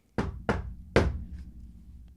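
Three firm knocks strike a wooden door, the first two close together and the last one harder, each a sharp near thud with a brief ring-off before quiet.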